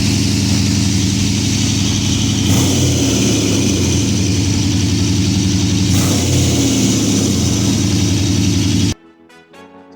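A repaired EH motorcycle engine runs loud and close on a ride, a rough steady drone with two brief rev surges, then cuts off abruptly near the end, leaving faint clicks.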